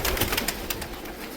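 Pigeons cooing close by in Saudi Arabia, a short run of soft, throaty coos repeating in quick pulses with no talk over them.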